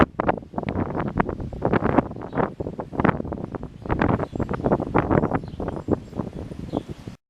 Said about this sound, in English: The winds are howling at 40 miles an hour.